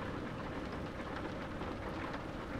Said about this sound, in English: It's the rain's distracted me.